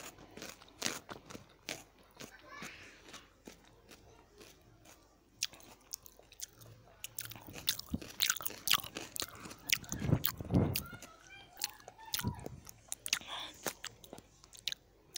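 Close, quiet crunchy eating: a rapid series of sharp bites and crunchy chewing, denser and louder in the middle, with no talk.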